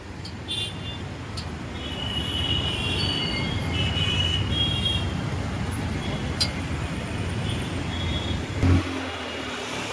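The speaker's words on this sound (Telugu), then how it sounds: "ఇదే KPHP మెట్రో అండి." A metro train runs at KPHB station in Hyderabad with a continuous rolling rumble and faint high wheel squeals, steady and fairly close, with a short thump near the end.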